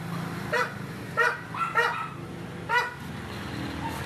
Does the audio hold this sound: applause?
no